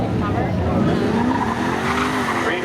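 A Ford Focus and a Camaro launch side by side in a drag race at a speedway, with engines roaring and tires screeching close by under continuous race commentary.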